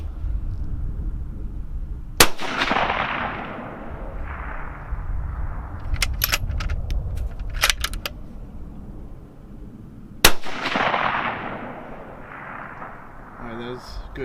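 Two sharp rifle reports from a Bergara B14 HMR in 6.5 Creedmoor at a range, loud close cracks about eight seconds apart, each with a rolling echo, with distant steel-target pings and faint talk between.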